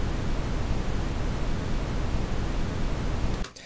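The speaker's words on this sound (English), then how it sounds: "here's what the Brownian noise actually sounds like completely by itself" Brownian noise: a steady, dense hiss plays on its own, even and unchanging, then cuts off abruptly near the end.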